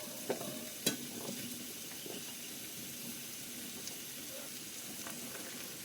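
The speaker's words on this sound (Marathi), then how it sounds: "आता या मसाल्यामध्ये आपल्याला या सगळ्या भाज्या टाकायच्या आहेत" Mixed vegetables such as pigeon peas, peas, chickpeas and field beans, plus chopped jujube, are tipped into a frying onion-tomato masala for Maharashtrian undhiyu and stirred. A soft, steady sizzle runs under a few sharp clinks of a spoon against the pan, with no talking.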